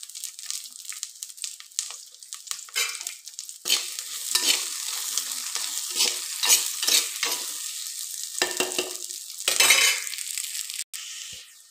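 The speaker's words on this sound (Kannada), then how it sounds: "ಈರುಳ್ಳಿನೂ ಲೈಟ್ ಫ್ರೈ ಆಯ್ಕ." Onions fry lightly in a pan for a coastal-style okra dish, giving a bright hissing sizzle broken by frequent stirring scrapes and clatters of a utensil against the pan, with louder surges near the middle and end and no voices.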